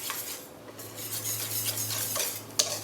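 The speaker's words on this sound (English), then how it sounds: "And now add the egg. And just whisk until well incorporated." Egg being whisked into a beer batter in a bowl, a steady scraping stir with light clinks of the whisk against the bowl, close and moderately quiet, with a sharper tap near the end.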